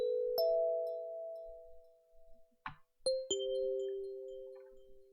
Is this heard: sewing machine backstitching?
no